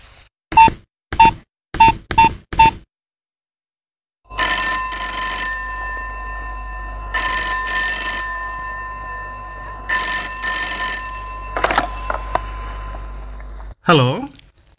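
A telephone rings in short, evenly spaced bursts, close and clear, before people talk over a humming background.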